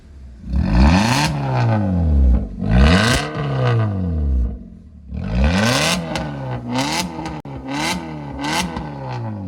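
A Maruti car with a Valvetronic exhaust revs hard several times, rising and falling in pitch with a roaring exhaust, close and loud.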